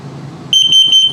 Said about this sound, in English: Same tone as the carbon monoxide LP gas alert, which is very slow.